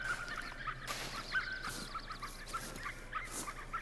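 Ducks in theHunter Call of the Wild call in a few faint, scattered honking quacks. Steady hiss and wind-like ambience lie beneath them.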